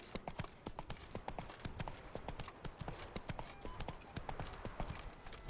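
Hooves of the horse Roach clip-clop at a steady gallop in a video game, a loud, continuous rhythmic pounding that runs the whole way through.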